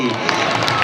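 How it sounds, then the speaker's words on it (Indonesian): Audience applause and cheering from a crowd at a modern creative dance performance at the Buleleng Development Festival, a dense continuous wash of clapping with mixed voices throughout. "boleh kita tepuk tangannya dulu dong untuk GDC."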